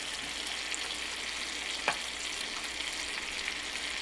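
Butter sizzles against apples on a grill with a steady, close crackling hiss, and one brief louder pop sounds midway through.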